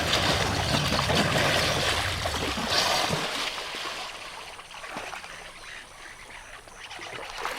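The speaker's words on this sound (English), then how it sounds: "The sound of his head smacking the surface of the water produces higher frequencies" An animal's head smacks hard against the surface of murky water, giving a loud, broad splash and slap that fades into quieter lapping and trickling.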